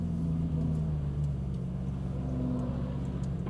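A Ferrari 458 Italia pulls away on a coned course, its engine a steady low rumble and drone that rises gently in pitch as it accelerates, close and continuous with no talk.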